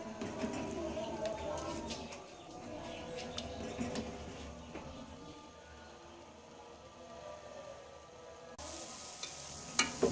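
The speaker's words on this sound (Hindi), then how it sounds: "थोड़ा सा यहाँ से आपने हलवे को लेना है और मिक्स कर देना है" Carrot halwa is stirred and mixed in a pan, with soft scraping and low sizzling close by, and faint clinks, fading quieter midway before picking up again.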